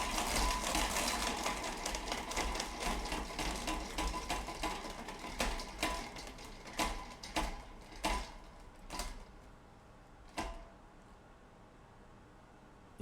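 A broken electric fan, running after water was poured into it, gives off rapid mechanical clattering and ticking that slows into spaced, irregular knocks as it winds down, close and alone.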